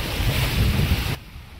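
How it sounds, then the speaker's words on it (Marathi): Heavy water roaring down the spillway of a dam in Akole taluka, a loud broadband rush that fills the first second before dropping abruptly to a quieter background. "एकदम जबरदस्त असं पाणी चालू आहे खाली"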